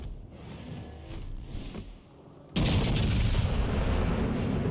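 Naval guns fire in World of Warships Legends: a rumbling barrage with distant booms gives way to a sudden, loud blast that continues as a dense, roaring wash of gunfire.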